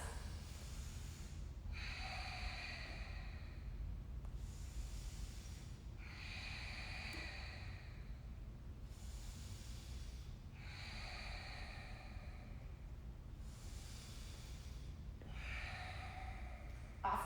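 Slow, deep breaths during a yoga flow, with about four long airy exhales spaced evenly several seconds apart, close and soft over a low room hum.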